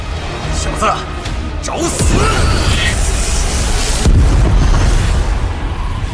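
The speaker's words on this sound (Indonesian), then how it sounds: "Ledakan dahsyat terjadi di pavilion utama." Heavy booming explosions rumble loudly with crashing bursts, while a voice talks over the blasts.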